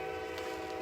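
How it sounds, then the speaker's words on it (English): A train passes nearby, a steady, dense rumble with a sustained tonal drone like a horn or wheel squeal throughout, with no talk over it. "Let me wait for the train to go by."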